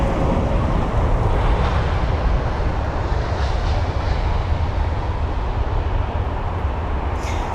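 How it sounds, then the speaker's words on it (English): A Boeing 787-10 Dreamliner at London Heathrow produces a steady, loud jet roar that holds evenly for the whole stretch with no voices over it. "So that was the 787-10 Dreamliner this time."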